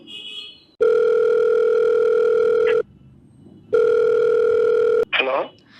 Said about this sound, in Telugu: ఒకసారి నోయల్తో నేను మాట్లాడతాను, వేరే కాల్ చేస్తాను